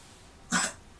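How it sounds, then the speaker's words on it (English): A thirsty male dog gives a single short, harsh cough lasting about a quarter second, close by, in an otherwise quiet indoor room. "Are you barfing or are you just coughing?"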